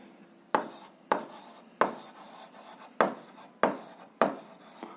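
Pen strokes on paper while working an 8th-grade algebra exercise, six sharp scratchy onsets each trailing off, evenly spaced and close, with no talking.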